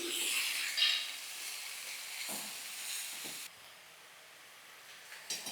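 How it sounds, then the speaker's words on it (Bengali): Drumstick flowers cook into a vegetarian curry in a hot pan, giving a soft, steady hiss and sizzle with a few brief scraping stirs, fading quieter partway through. "একটু নাড়াচাড়া করে নিচ্ছি।"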